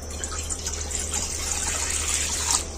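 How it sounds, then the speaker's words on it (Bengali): Water pours steadily into a wok in a home kitchen with a continuous hissing gush. It is close and moderately loud, with no talk. "এবার কড়ার মধ্যে দিয়ে দিচ্ছি জল"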